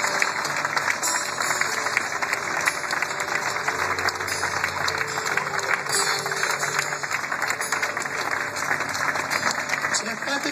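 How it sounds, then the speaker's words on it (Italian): A street crowd at a motor-racing memorial event gives a long, steady round of applause, dense clapping sustained throughout at moderate distance with voices mixed in. "Io chiederei a tutti quanti di fare il grosso applauso a questo ragazzo"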